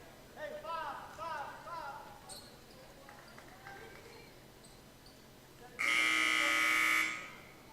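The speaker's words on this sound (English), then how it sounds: "Buzzer sounds" A loud electronic buzzer blares for about a second near the end, following indistinct voices and squeaking shoes at a women's basketball game in a gym.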